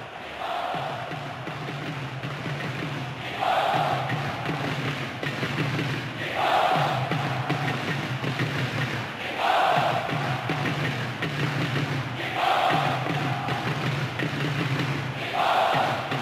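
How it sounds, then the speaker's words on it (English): Impatient football stadium crowd at a Japan vs Germany match, a vast roaring mass chanting in a regular rhythm, rising in repeated swells about every three seconds over constant distant crowd noise. "The crowd starting to get impatient now."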